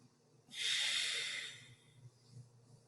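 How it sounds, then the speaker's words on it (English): One long, airy inhale through a single nostril during alternate nostril breathing (Nadi Shodhana) in a yoga session, close and hissing, followed by soft quiet breaths. "you're going to put your thumb on your right nostril and breathe in"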